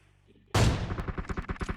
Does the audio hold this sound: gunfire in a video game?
yes